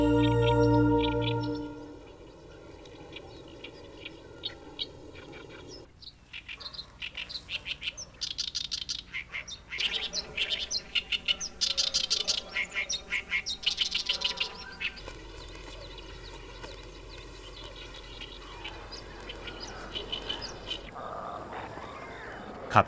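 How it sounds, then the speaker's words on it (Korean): Varied birds call and chirp along the natural stretch of Gapcheon stream, a river habitat, with clear tweets and songs rising and falling over a steady outdoor background. "갑천 자연하천 구간에는 60여 종이 넘는 다양한 새가 있다."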